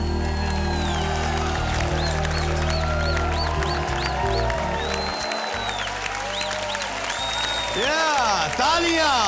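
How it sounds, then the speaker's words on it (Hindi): Studio audience claps for three young children who have just danced on a TV game show, steady applause running under loud background music with sustained tones and rising and falling melodic lines. "तालियां for those 3 beautiful little बच्चा"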